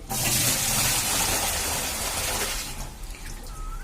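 Water gushes out of an old clay pot, a loud, splashing pour that runs steadily for a few seconds and then thins to a trickle and drips.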